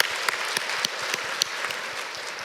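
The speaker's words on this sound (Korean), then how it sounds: "우리 하나님께 감사와 영광의 박수 올려드리겠습니다" A church congregation claps together during a sermon, a steady even patter of many hands with a few sharper individual claps standing out, moderately loud and continuous with no speech.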